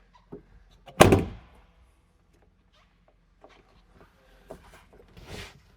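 The sliding sunroof of a 1960 Porsche 356 Abarth tribute is pushed back with a single sharp thunk, followed after a quiet pause by faint sliding rustles and a softer closing clunk.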